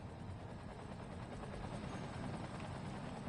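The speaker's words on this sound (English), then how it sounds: "And here come all the fire helicopters to deal with all the damage." Fire helicopters arrive over a burning city in the video game Cities: Skylines, their rotors making a continuous low rumbling drone that stays steady and fairly faint throughout.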